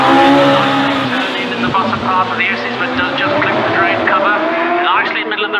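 A hill climb race car at Shelsley Walsh in the British HillClimb Championship accelerates hard along the track, its engine loud and close with a continuous roar.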